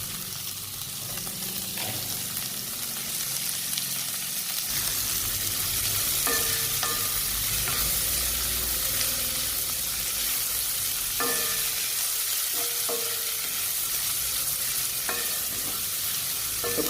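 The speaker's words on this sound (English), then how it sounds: "This is going to saute." Tofu, broccoli and mushroom sauté in a hot pan, giving a steady, close sizzle and frying hiss throughout, broken by occasional scraping and stirring sounds.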